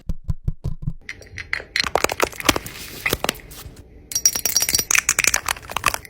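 Rapid light clicks and taps of fingernails on small hard berries come in quick bursts with brief pauses, close and crisp.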